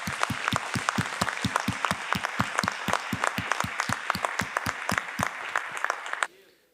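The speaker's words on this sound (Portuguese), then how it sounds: "Vamos dar para Jesus uma salva de palmas bem bonita." A church congregation at a praise and worship service claps in unison, sharp evenly spaced beats for several seconds before stopping abruptly, with a brief quiet tail.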